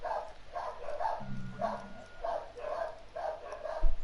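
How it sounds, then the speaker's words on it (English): A dog barks repeatedly in the background of an F1 2019 racing game live stream, giving about eight moderately loud, evenly spaced barks over a low hum, with no talk. "And Ballboy Dog is in the background."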